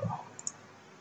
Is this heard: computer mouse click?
yes